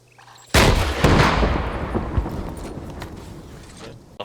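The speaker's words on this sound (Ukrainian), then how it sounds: "Постріл." A single loud gunshot in the video game Arma 3 cracks out suddenly and close, followed by a long rumbling echo that slowly fades over several seconds.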